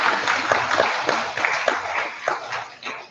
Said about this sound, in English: Real big round of applause to him.